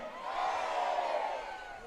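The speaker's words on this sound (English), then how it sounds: "Crowd still active here." Crowd noise at a Friday night high school football game between the Viera Hawks and Astronaut War Eagles, a steady broad roar of cheering fans swelling and easing over two seconds, distant and diffuse with no distinct voices.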